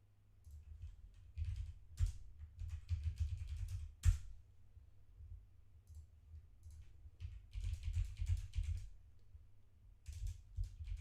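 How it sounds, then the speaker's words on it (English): Typing on a computer keyboard during a trading-card box break, with clusters of rapid key clicks in bursts and pauses and a few sharper taps, close by over a low background hum. "Does anyone ever watch what I'm typing and try and figure out what I'm typing?"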